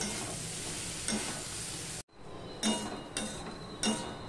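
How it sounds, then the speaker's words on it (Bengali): Lentils and spices are stirred in a pan with a quiet sizzle. A spoon scrapes and taps the pan a few times in a loose rhythm, and there is a short silent break partway through. "সম্পূর্ণটা মিশিয়ে নিয়ে আমি ডালটার সাথেও একটুখানি নাড়তে থাকবো।"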